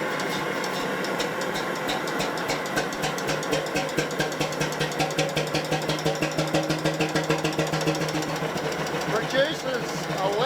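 An old restored diesel engine rated at 11 horsepower at 270 rpm runs with a steady, rhythmic low-speed chugging and metallic knocking, loud and close, with voices talking over it.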